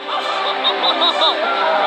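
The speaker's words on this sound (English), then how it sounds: "Oh my god, it's a bird!" A large bird honks repeatedly as it flies toward a raft at sea, loud, close, goose-like calls in quick succession with excited voices mixed in.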